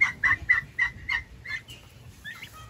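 Farm turkeys, a tom with a group of hens, give a run of six sharp, fairly close calls in quick rhythm, followed by softer scattered clucks and a brief gobble-like trill near the end.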